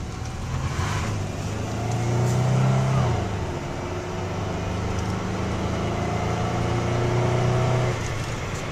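A 1997 Dodge Intrepid with 191,000 miles revs its engine, a steady close hum that swells twice with the throttle over a constant idle-like drone.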